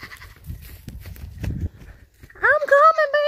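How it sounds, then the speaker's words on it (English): A baby goat stuck in a farm fence bleats loudly and close, a couple of wavering cries near the end after rustling and footsteps as someone approaches. "my baby goat is stuck in the fence."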